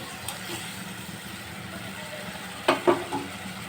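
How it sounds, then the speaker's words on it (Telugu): Tamarind pulp simmers in an egg curry pan with a steady, soft sizzle and bubbling, broken late by a couple of louder clatters from stirring. "చింతపండు గుజ్జు వేసుకుని ఒకసారి బాగా ఉడికించుకోవాలి"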